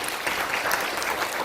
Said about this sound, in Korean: 여러분 모두 위해서 박수를 쳐주시기 바랍니다